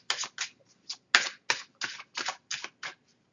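Soft rapid riffles and flicks of a Divine Angel Oracle card deck being shuffled, about nine short bursts in an even rhythm, close and quiet with no talking.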